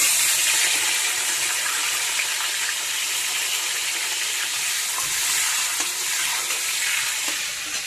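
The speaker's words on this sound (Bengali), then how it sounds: "এবারে তেলেতে বেগুন কটা দিয়ে দেবো," Eggplant pieces fry in hot oil for a Bengali pachan, giving a loud, continuous hiss and crackle that stays steady throughout, with no talking.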